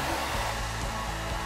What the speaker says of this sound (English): you gotta have the hair dryer element